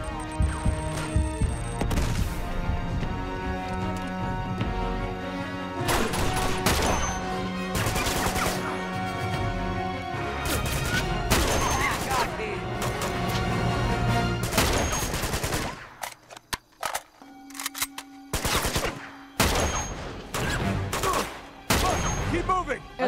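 Rapid gunfire crackles in bursts through a shootout in the video game Uncharted 2: Among Thieves, with a grenade blast amid the chaos and voices calling out between volleys, loud and close, thinning into scattered shots near the end.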